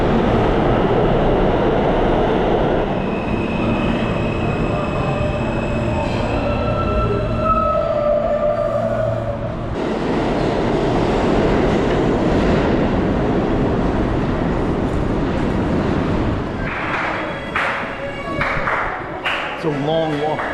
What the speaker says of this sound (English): now going from the E train, which is train number 2, to train number 3 for a couple of more stops into Brooklyn